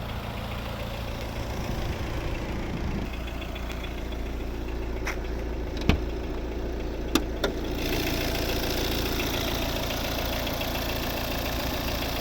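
A 2015 Volvo V70 2.0 four-cylinder diesel engine idles steadily with a low, even rumble, a couple of sharp clicks partway through, close and continuous with no voices.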